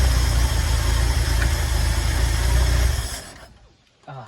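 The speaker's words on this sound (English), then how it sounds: "Hey, it's idling." An engine idling right after a carburetor rebuild, a close, steady low rumble that runs evenly for about three seconds, then dies away into quiet before a brief faint knock.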